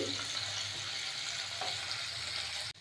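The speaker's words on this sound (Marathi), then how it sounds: "हे सर्व तेलामध्ये परतून घेऊया लसूण हा तेलामध्ये लाल करून घ्यायचा आहे" Green chillies and garlic fry in hot oil for gavar bhaji, a steady close sizzle with a faint stir partway through and a short sharp click at the very end.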